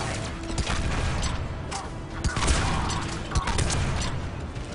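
Turret fire in Mass Effect 3 aboard the Illusive Man's ship: repeated sharp gunshot bursts and impacts crackle through a busy combat mix, with someone talking now and then.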